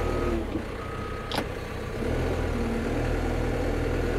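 Tracked machine with a ripper climbing onto a car hauler trailer, a steady heavy engine drone with a faint tonal beep and a sharp high squeal mid-clip, continuous and fairly distant.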